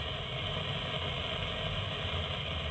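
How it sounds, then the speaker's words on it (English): Quiet, steady hiss of TV static in the video game Little Nightmares, an even broadband crackle that holds without change. "the TV switches on and begins to play static on the TV"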